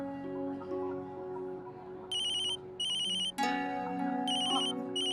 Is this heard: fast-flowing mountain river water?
no